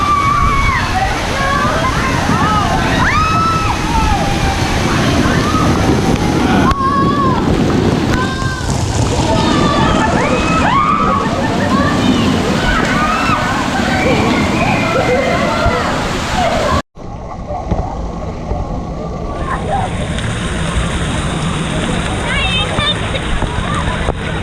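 Waterfall splashing over a ride at Disney's Blizzard Beach water park, a loud continuous rush and slosh of water with people talking and exclaiming throughout, cutting abruptly to a quieter, steadier spray near the end.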